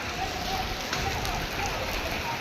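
Large hailstones fall outdoors in a dense, steady patter that clatters close on the surfaces around, with no break and no clear voices over it.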